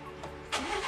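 A straight-piped Ford car engine cranks briefly and catches, bursting into a louder raw exhaust roar within a second, close by.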